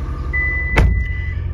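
The door of a running car shuts with a single solid thud while the engine idles low underneath and a steady warning tone sounds.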